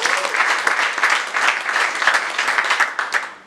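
Voters at a Congolese political party election meeting applaud as an officer is elected by acclamation, a dense, steady roar of many hands clapping together, loud and sustained without talk.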